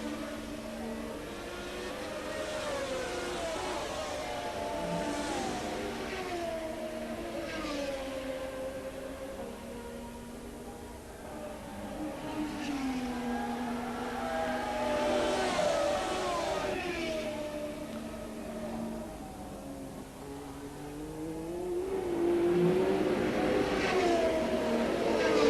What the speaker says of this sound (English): Again, Patrese survives, using superior acceleration up the hill